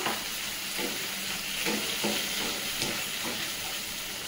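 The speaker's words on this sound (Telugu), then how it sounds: "సో వేసేసాక ఇలా మనం ఒకసారి ఫ్రై చేసుకోవాలి" Ingredients for a North Indian sarson dish fry in a pan with a steady bright sizzle, broken by a few soft stirring scrapes, close and continuous with no voices.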